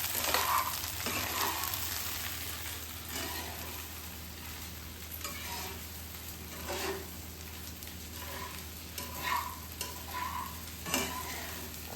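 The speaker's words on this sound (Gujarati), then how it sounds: "હલાવી લઈશું સારી રીતે" Bottle gourd muthiya being stirred in a sizzling tempering: repeated scraping strokes of a spoon against the pan over a steady frying hiss, close and moderately loud, with no talking.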